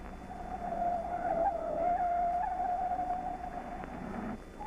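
A car reversing around a curve in a 1970s anti-terrorist driving drill, its tyres giving one sustained, fairly loud squeal of about four seconds that swells and then fades.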